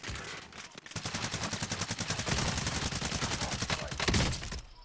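Rapid sustained gunfire in the shooter game Call of Duty: Warzone, a dense machine-gun-like burst of repeated shots running almost continuously for several seconds, loud and close.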